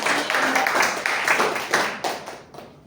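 An audience at a Toastmasters club meeting applauds to welcome a speaker, with dense, close hand clapping from a small crowd that holds steady and then thins and fades toward the end.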